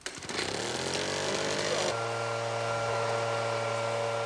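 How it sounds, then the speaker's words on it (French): A laser-headed harvesting trimmer cuts the bud tips of sencha tea bushes on a family tea farm in Terao, giving a loud, steady mechanical drone with a buzzing, chainsaw-like motor tone that holds throughout and settles into a steadier hum partway through. "on utilise une tondeuse ultra sophistiquée, équipée d'une tête laser"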